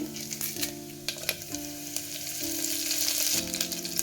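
Cumin seeds sizzle and crackle in hot oil in a pan while cooking a brinjal dish, with a steady frying hiss, occasional stirring clicks and a faint tonal hum, no talk.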